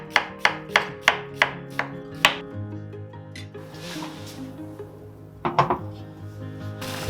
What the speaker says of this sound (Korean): 먼저 양파를 가늘게 썰어줍니다.